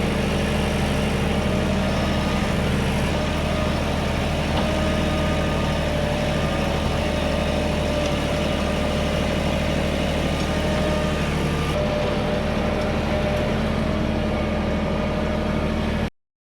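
A compact tractor's engine runs loud and close at a steady working pitch, holding a constant rumbling drone while the bucket is raised, then cutting off abruptly at the end.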